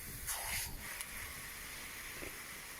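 Water sprays from an Aqua Joe heavy duty metal adjustable hose nozzle being tried on different patterns over a small garden, a steady soft hiss with slight shifts and a few faint knocks.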